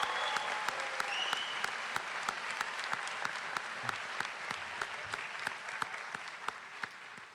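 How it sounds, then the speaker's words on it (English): Sustained crowd applause at a 2023 high school graduation ceremony, dense and steady throughout with a few sharper individual claps standing out near the microphone, no speech over it. "Can we have a round of applause for them?"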